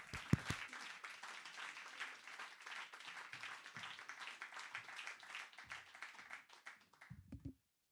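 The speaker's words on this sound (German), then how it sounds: "Großen Applaus," Warm audience applause greets a comedian stepping onto a comedy club stage, a brisk clatter of many hands that holds steady for several seconds and then cuts off, with a low murmur near the end.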